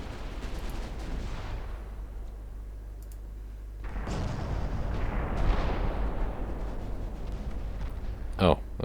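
Naval gunfire and a shell explosion in the Ultimate Admirals: Dreadnoughts video game, a deep rumbling boom that swells midway and rolls on under a speaking voice, with a sharp crack just before the end.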